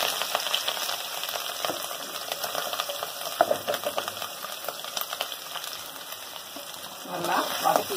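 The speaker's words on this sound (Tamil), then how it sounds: "எண்ணெயில் துருவின இஞ்சி நான் சேர்த்துக்கிறேன்" Grated ginger and garlic sautéing in hot oil: a continuous crackling sizzle with scattered spoon scrapes and clinks, close by, with no speech.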